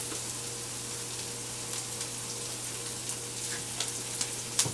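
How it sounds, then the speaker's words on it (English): Food sautes in a pan seasoned with garlic pepper, giving a steady low sizzle with soft crackles and a few sharper pops toward the end, quiet and continuous with no voices. "Let this saute up a little bit."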